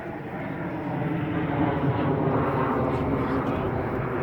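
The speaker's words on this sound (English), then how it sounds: "Plane to fly by." Airplane passing overhead above a garden hop planting, a steady loud broadband engine roar that swells slightly and holds throughout.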